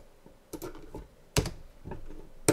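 A few clicky keystrokes tapped on a computer keyboard during 3D animation work, in short irregular bursts with pauses between them, close and fairly quiet.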